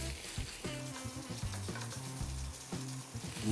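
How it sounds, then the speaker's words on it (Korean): Vegetables and unseasoned meat stir-fried together in a pan, a steady close sizzle broken by repeated scraping strokes of a utensil, with no voices. "채소 조금만 볶다가 고기 넣고 같이 볶아 보겠습니다"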